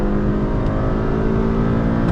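A Honda City and a Hyundai Verna accelerate side by side in a drag race, producing a loud, sustained engine drone with rising tonal whine, close and continuous.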